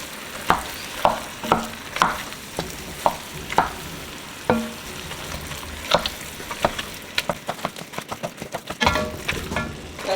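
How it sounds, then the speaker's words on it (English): Ground sausage is stirred into hot ground beef in a pot for lasagna soup: a steady sizzle runs beneath repeated spoon scrapes and clacks against the pot, coming in quick bursts near the end. "this is the ground sausage. So we're just gonna mix that in."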